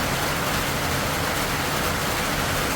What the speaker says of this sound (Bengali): আজকে সারাদিন জুড়ে বাইরে বৃষ্টি